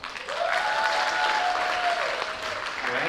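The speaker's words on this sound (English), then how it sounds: "Let's give another round of applause for Michelle." Audience applause for a pageant contestant at the Miss Vietnam Wichita scholarship pageant, a steady sustained clapping from a crowd in a hall, with a faint tone and some speech-like sound drifting through it.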